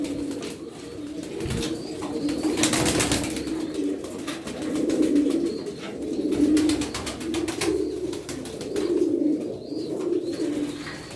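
Domestic pigeons coo in soft, repeated rounded calls over a steady low murmur, with a brief flutter of wings near the start, close and fairly loud with no talking.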